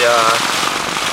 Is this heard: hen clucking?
no